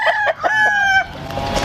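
A rooster, a male chicken kept in Bali, crows loudly and close by in one full cock-a-doodle-doo with clucking notes around it, and no talk over it.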